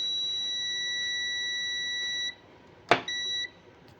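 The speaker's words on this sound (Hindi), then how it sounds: "यानी ये तार शॉर्ट है, यानी बीप की आवाज़ आ रही है" A UT33D+ multimeter in continuity mode gives a loud, steady electronic beep for about two seconds, goes quiet, then a click is followed by a second short beep.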